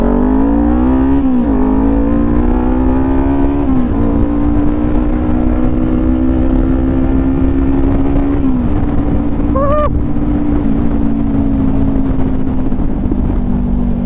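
A fully modified Kawasaki Ninja 400 idling and blipping its aftermarket exhaust, a loud close steady engine drone that rises and settles in pitch a few times, with one brief sharp rev near the end.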